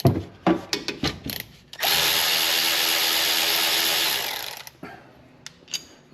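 A power tool whirs loudly for about three seconds while loosening the 12 mm caliper slide bolts on a 2018 Chevrolet Colorado, with scattered clanks and taps of tools before and after the run.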